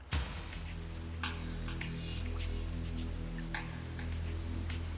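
Steady rain falling on a surface in Botswana's Linyanti swamps during the rainy season, a dense continuous patter with occasional louder drips, with no voices.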